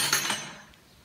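Metal keys clink together among the tools of a farm workshop, a bright quick jingle in the first half-second that dies away into quiet.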